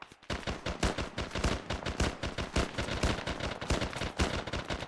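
Rapid automatic gunfire crackles in a dense, continuous burst during a cooperative military shooter match, loud and close, shots overlapping with no pauses and no voices.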